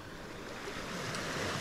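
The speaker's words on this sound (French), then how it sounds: "j'observe le jeu de la mer, des vagues" Sea waves wash onto a small sheltered beach, a steady broad surf rush that builds slightly, mixed with some wind noise and no voices.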